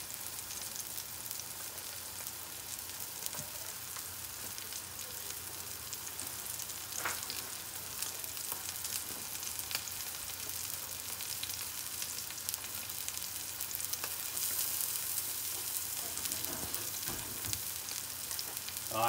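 A steak sizzling steadily in a pan, an even hiss with a few faint pops and ticks throughout, close and fairly quiet, with no talking.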